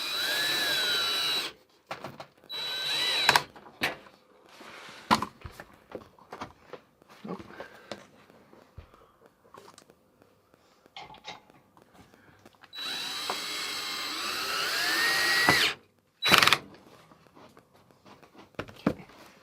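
A power drill drives screws into wooden boards in a handful of loud, whining bursts of a second or more, with quiet handling and shuffling in between and a longer run in the middle.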